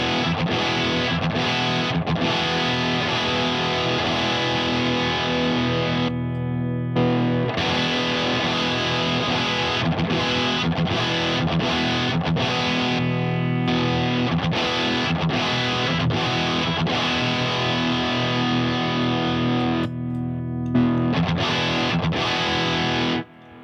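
Electric guitar through a Boss SD-1 overdrive pedal, distorted chords and riffs with short pauses, loud and close for over twenty seconds, no voices.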